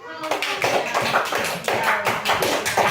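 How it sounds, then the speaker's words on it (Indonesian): A group claps together in a classroom, crisp rhythmic hand claps in a steady repeating pattern, fairly close and loud, with children's voices mixed in. "Beri tepuk tangan dulu untuk"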